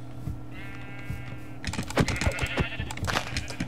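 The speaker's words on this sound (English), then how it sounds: "I hear sheep." Sheep bleat in the Minecraft video game, a couple of short nasal bleats at moderate level over a low steady hum, with quick keyboard clicks and tapping joining partway through.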